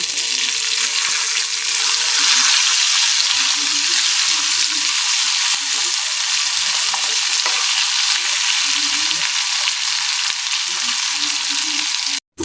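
Hilsa fish frying in hot oil, a steady dense sizzle with crackling pops running continuously and close, with no talk over it.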